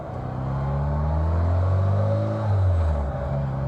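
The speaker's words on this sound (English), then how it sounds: "You can hear the turbo spooling." Triumph GT6 with a turbocharged engine pulling on the road, its engine note rising and falling as the turbo spools, accompanied by a faint whirring whine; close and loud, no talking.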